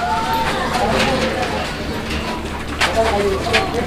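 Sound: pigeons cooing

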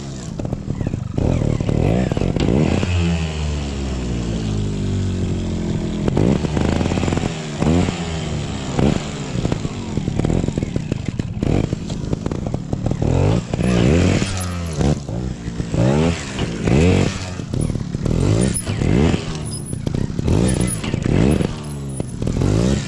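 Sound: Sherco STR 250 trials motorcycle riding over barrel obstacle

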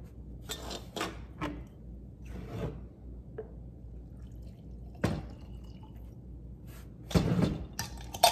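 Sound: pouring water into applesauce for wasp bait

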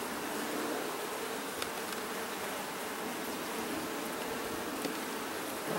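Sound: honey bees buzzing around an open hive

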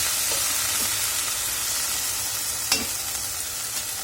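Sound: okra (bhindi) frying in oil

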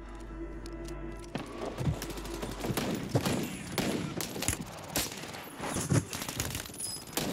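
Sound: gunfire in the video game Warzone

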